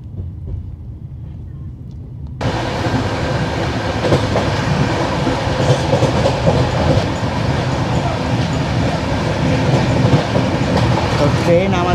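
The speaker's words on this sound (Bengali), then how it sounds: "তো ট্রেন আমাদের এখন পৌঁছাচ্ছে কিষানগঞ্জে" A passenger train, likely a Vande Bharat service from Prayagraj to Siliguri, runs on tracks as it approaches Kishanganj. A quieter start jumps to a loud, continuous rumble with rattling carriages and clattering wheels.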